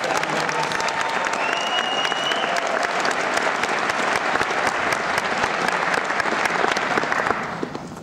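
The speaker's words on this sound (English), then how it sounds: "Give each other a round of applause." Sustained applause from a large audience at an NYPD police academy graduation ceremony, dense steady clapping filling the hall for several seconds before tapering off at the end.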